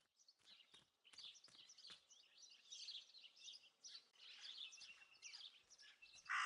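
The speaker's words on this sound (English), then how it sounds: "That raven is making a big fuss." Bird calls from a raven in the video game Martha Is Dead: a busy, fussing stream of repeated harsh chirps and calls, moderately close, continuing throughout without speech.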